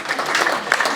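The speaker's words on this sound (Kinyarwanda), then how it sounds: "amashyi menshi cyane." Wedding guests clapping together in a steady, dense burst of applause, moderately loud and sustained through the moment, with no clear talk over it.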